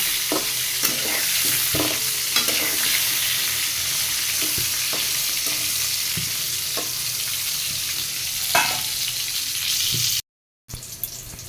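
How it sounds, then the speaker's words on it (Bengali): Pointed gourd with turmeric sizzling in hot oil with repeated stirring scrapes and clatters; the crackle continues steadily, briefly cutting out near the end. "দিয়ে পটলটা ভালো করে ভেজে নেব।"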